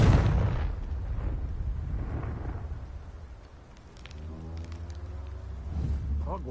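Booming fire-spell blasts in the Hogwarts Legacy video game, a heavy explosive burst at the start followed by rumbling, crackling flames and a second rising roar, loud and close with no talk.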